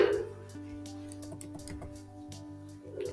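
A few quiet keystrokes tap on a PC computer keyboard while a number is entered in a Word document, faint and close over a low steady hum.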